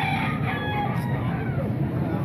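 A rooster among eight-month-old chickens at a Baliwag tiangge crows once against a loud, dense market hubbub, the call partly buried under the constant crowd noise.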